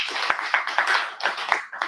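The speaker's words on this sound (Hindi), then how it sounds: "बहुत जोरदार उनके लिए ताली हम लोग बजाना चाहेंगे" Sustained applause from a seminar audience, a dense burst of hand claps with sharper individual claps standing out, fairly close and steady for a couple of seconds with no talking.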